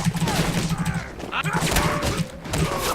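Video game gunfire from Alpha Protocol: rapid bursts of shots crackle in short repeated volleys throughout, mixed with thuds and clatter, while a voice talks over the action.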